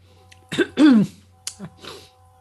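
A couple of short throaty coughs, close by, with a brief pause between them and a softer follow-up a moment later.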